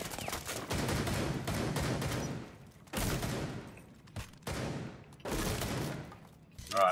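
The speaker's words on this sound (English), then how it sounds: "there's someone shooting out of this thing here." Sustained bursts of gunfire in the video game Rainbow Six Siege, loud and dense, broken by short pauses between volleys with no talk.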